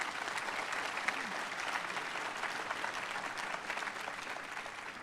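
Audience applause fills a commencement ceremony, a dense, steady clapping from a crowd that runs evenly throughout at moderate distance, with no voices standing out.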